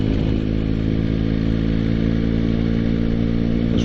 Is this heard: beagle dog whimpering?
no